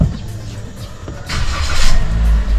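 A Toyota Veloz with a CVT starts up, its engine catching and rising into a steady idle that grows louder through the second half, heard alone and close.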